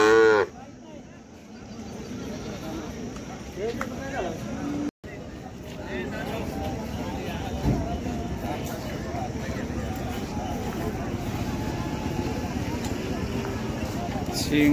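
Cattle moo at a Khillar bull market in Sangola, lowing calls rising out of a busy crowd of voices and animal noise, with people talking nearby.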